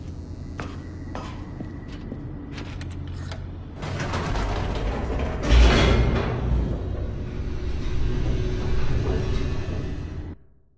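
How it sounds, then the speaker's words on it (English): An elevator descends in the game The Stanley Parable with a loud mechanical rumble, creaking and grinding gears that build up, stay steady for several seconds, then cut off abruptly. "The elevator raced downward."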